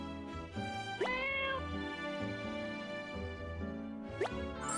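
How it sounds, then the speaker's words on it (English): A cat in the video game Portia meows repeatedly, with several drawn-out, tonal, slightly synthetic-sounding meows over a background music bed, loud and close. "They really should have found a better sound effect for that cat."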